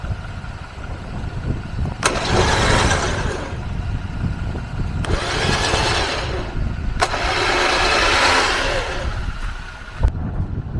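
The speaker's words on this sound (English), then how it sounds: "That noise is the winch working." An electric winch motor whirs in bursts, rising and falling three or four times with sharp clicks between runs, loud and close with a rumbling low end.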